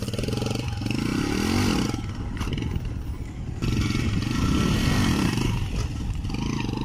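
A motorcycle lifts its front wheel in a short wheelie while braking, the engine revving up and dropping back in two surges with some clatter, heard fairly close.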